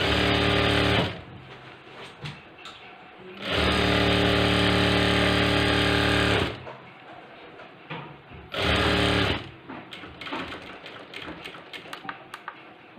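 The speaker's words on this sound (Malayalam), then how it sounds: "ഒരു 1/2 ഇഞ്ച് മടക്കി ഒരു 1/4 ഇഞ്ചിൽ സ്റ്റിച്ച് അടിച്ചെടുക്കുക" Sewing machine stitching a quarter-inch hem on a cross-cut blouse, running in three loud sustained bursts of steady rapid whirring, with quieter handling clicks and rustles between runs.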